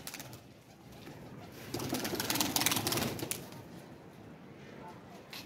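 Pigeons coo and shuffle nearby, with a brief flurry of flapping wings and scattered background noise.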